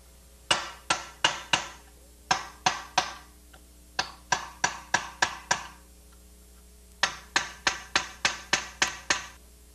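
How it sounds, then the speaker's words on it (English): A hammer strikes a blunt chisel to drive a bushing out of a car's front control arm. The sharp metallic blows come in quick runs of four to seven, with short pauses between the runs, loud and close in a quiet workshop. "We start off with the blunt chisel."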